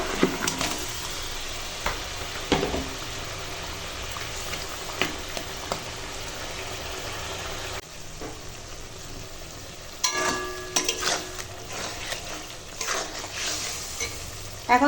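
Chicken curry with potato simmering in its broth, with fried rohu fish head added, gives a steady sizzling, bubbling hiss, stirred now and then with clinks and scrapes, close and continuous without any voices.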